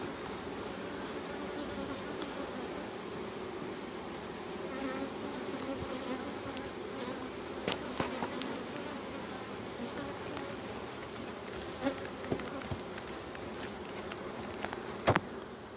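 A dense, steady buzzing of about 100,000 honeybees inside a hive fills the space continuously, with occasional faint clicks and knocks.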